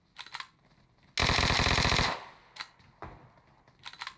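PUBG Mobile gunfire: a loud, rapid automatic burst of about a second, with scattered shorter shots before and after it. No one speaks.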